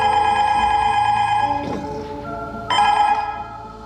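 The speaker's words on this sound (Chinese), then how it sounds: "电话突然响了。" A telephone bell rings in a dramatic crime thriller scene, loud and close, in two sustained bursts with a short pause between them, no voices over it.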